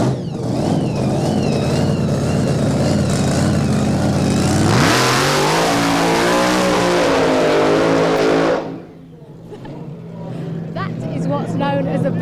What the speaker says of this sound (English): What's known as a burnout.